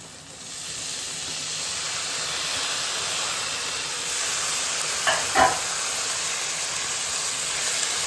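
Liver curry with curry leaves and tomato in a pan gives a steady, soft sizzle and hiss, with a couple of brief stirring knocks partway through.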